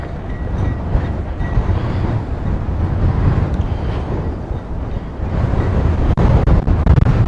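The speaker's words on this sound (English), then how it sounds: "It is windy out here today." Strong wind buffets the microphone outdoors, a steady loud rumbling roar that swells and dips for several seconds with no voices over it.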